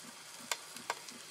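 Sausage sizzles faintly in a pan cooked without butter, a soft steady fry with a few sharp pops and crackles spread through it.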